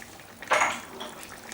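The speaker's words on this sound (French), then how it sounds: "On va remuer et on va laisser mijoter 5 petites minutes." A spoon makes one brief scraping stir through a pot of simmering sauce seasoned with chili flakes, a single short swish against the metal that fades quickly.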